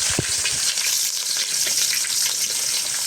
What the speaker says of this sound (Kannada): ಈರುಳ್ಳಿ ಹಾಕ್ಕೊಂಡು ಇದನ್ನು ನಾನು ಫ್ರೈ ಮಾಡ್ಕೊಳ್ತೀನಿ.